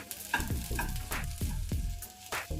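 A spoon scrapes and knocks through a thick mixture in a cooking pot, several distinct stirring strokes with soft clunks against the pot's side, close and fairly quiet, no voices.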